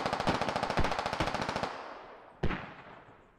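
In the shooter game Squad, a rapid burst of automatic gunfire rattles for over a second and fades out. A single sharp, loud blast then lands like an incoming mortar round and rings away into quiet.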